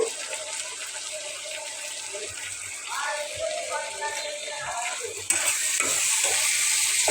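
Biryani masala and ginger-garlic paste fry in a pan with a bright continuous sizzle and stirring scrapes, the hiss swelling louder near the end.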